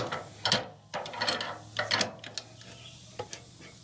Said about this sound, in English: You go ahead and clamp this down.